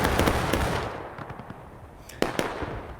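Cannons fire in a video game battle: a cluster of rapid booming shots at the start fades into a lull, then two sharp close blasts ring out near the end.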